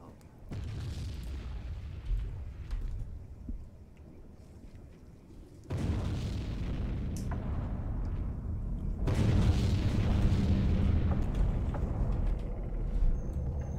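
Deep underwater explosions from a sinking ship in the Silent Hunter 3 submarine game, set in stormy weather: three heavy, rumbling booms, each swelling and lingering into a long low roar, with eerie creaks over the top.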